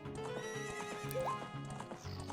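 Epona, the horse in the Ocarina of Time game, whinnies with a rising neigh over looping game music, with clip-clop hoofbeats running steadily throughout.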